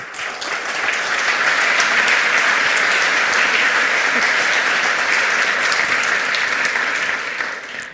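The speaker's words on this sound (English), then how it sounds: "Keep a warm applause for Chris Kubecka" Security conference crowd gives a warm, sustained round of applause for a speaker, dense and loud for several seconds before fading at the end.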